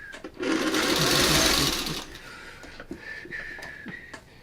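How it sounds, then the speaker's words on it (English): A sewing machine stitches fabric with the needle down, running in a loud, fast continuous burst, then stopping and giving way to quieter handling clicks and a short speaking voice. "we're going to sew it like this"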